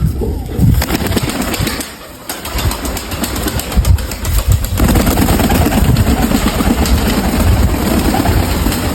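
Domestic pigeons kept in a loft coo continuously and fairly loudly, with a low engine-like rumble running underneath and no clear talking.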